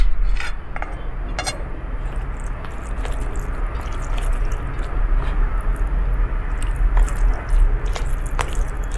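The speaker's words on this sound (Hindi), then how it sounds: "First bite." A close-up mouthful of dal and plain rice, served with papad and vegetable sides, is bitten and chewed continuously. Soft squishy, crunchy mastication fills the whole stretch with no talking.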